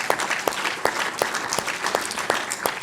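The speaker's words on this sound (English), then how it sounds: "let's give them a warm round of applause" Audience applause for a Dean's office staff at a college event, a steady dense round of clapping from a crowd, moderately loud and filling the whole stretch with no talk over it.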